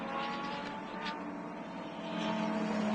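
Pescarolo race car with a Judd V10 engine, ex-Formula 1 unit, heard at a classic racing event: a sustained high-pitched engine note with harmonic whine, rising slightly toward the end as it passes at moderate distance.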